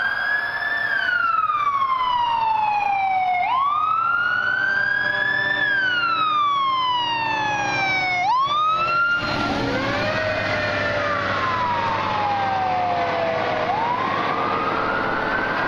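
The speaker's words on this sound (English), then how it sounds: "Last one was a fire truck, Goshen fire truck." A Goshen Fire and Rescue fire truck siren in Clermont County on State Route 28 wails up and down loudly as the truck passes close by, then shifts into a lower, rougher sweep while traffic rumbles underneath.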